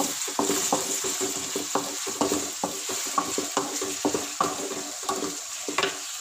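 Ingredients being sautéed for a prawn gravy, with a constant bright sizzle and rhythmic spoon-against-pan scrapes and clinks roughly every half second, close and fairly loud, with no voices.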